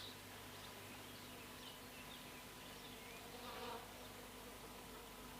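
Bees hum steadily around their hives near a country cottage, a continuous, soft droning buzz with a few louder passes of individual insects close by.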